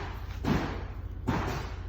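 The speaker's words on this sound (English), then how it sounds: "They're putting a new roof on the business behind me" Two heavy bangs about a second apart from roofing work on a nearby business building, over a steady low background rumble.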